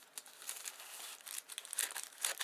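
Plastic packaging crinkles and rustles in quick, uneven bursts while a USB floppy drive is being unboxed, close and fairly quiet, with no one speaking.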